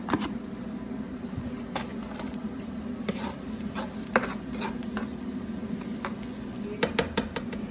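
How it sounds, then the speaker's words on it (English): Shallot and garlic sizzle steadily in a warm pan, a soft continuous frying hiss broken by scattered clinks and scrapes of a utensil stirring, with no talking. "I'm going to add my shallot and garlic into the same pan."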